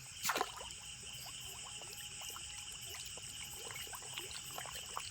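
Fish feeding at night in a village pond slap and splash the water, opening with one loud close splash, then a steady run of small splashes and trickles.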